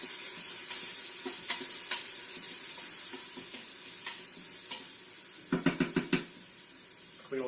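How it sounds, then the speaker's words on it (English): Chicken pieces sauté in olive oil inside an Instant Pot on its saute setting, a steady sizzle with scattered knocks as a utensil stirs, ending in a quick burst of several clatters near the end. "I'm going to switch the Instant Pot to saute. It was saying hot just a minute ago, so I'm going to go ahead and throw these in. Give them a little stir."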